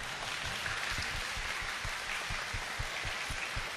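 Steady crowd applause from an audience at Yu Suzuki's Shenmue III talk in Xiamen, a dense wash of many hands clapping continuously, with occasional louder claps standing out.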